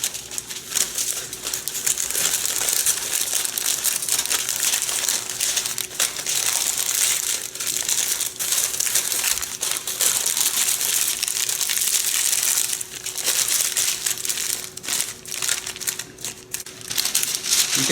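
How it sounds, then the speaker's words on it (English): Parchment paper is wrapped around a pork belly in loud, close, continuous crinkling and crumpling that rustles and crackles steadily, with brief pauses in handling. "And then we want to wrap it in the parchment paper."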